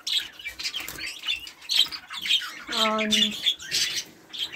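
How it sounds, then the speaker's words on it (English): A greenfinch and canaries in an aviary give busy, bright chirps and squawks with wing flutter and a short buzzing trill, close and lively, under a brief spoken word. "This is our green finch with canary."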